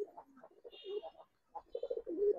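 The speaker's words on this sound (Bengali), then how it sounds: "লাল গররা চিঠা সাপ চোখের কবুতর" Snake-eyed pigeons with red markings coo close by in soft, throaty, rolling bursts, a few short phrases separated by a brief pause.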